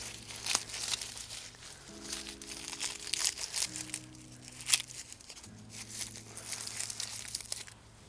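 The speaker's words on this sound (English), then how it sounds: "So I'm just gonna actually rip this bag open." A plastic bag of garlic bulbs is torn open by hand, giving bursts of crinkling and ripping that come and go in several rough waves, close and moderately loud, with a steady low hum in the background.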